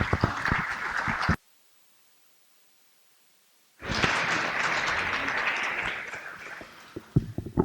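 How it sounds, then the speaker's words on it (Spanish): Audience applause welcoming a speaker at a lecture course, clapping that cuts off into a couple of seconds of silence, then resumes strongly and slowly fades. "La recibimos con un aplauso."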